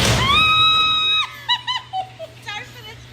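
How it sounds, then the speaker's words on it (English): A woman lets out a long, loud, piercing scream while riding a fair ride at a Florida fair, then breaks off into short, breathless vocal bursts and exclamations. "Sorry for the scream."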